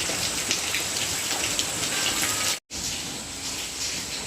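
Steady, heavy rain falls without pause, a dense continuous hiss that stays even throughout, broken only by a brief dropout just past the middle; no voices are heard.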